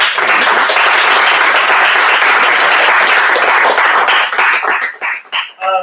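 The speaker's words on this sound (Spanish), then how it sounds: "un aplauso, por favor" Loud audience applause at a round-table event at a game jam in Madrid, dense sustained clapping from a crowd that thins out and breaks into a few last claps near the end.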